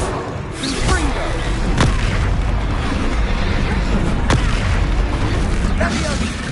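Confringo spell explosions in Hogwarts Legacy: a few sharp cracks and booms over a continuous loud rumbling battle din, with voices calling out.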